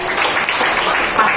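An audience at a church service bursts into dense, loud clapping that stays steady and close, filling the moment without any voice over it.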